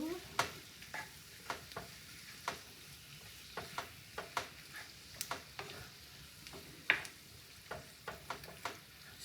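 Scallops sizzle softly in a pan over low heat, a faint steady frying hiss broken by frequent sharp clicks and taps of a utensil against the pan.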